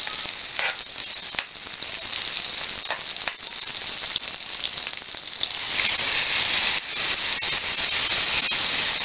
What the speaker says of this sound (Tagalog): Pwede na natin ilagay yung ating marinated pork.